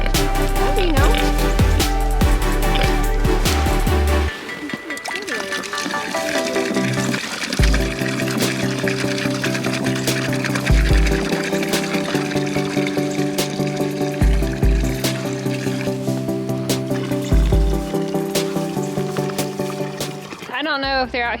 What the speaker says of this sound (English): And to fill up everybody's water.